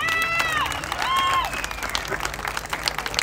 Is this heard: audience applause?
yes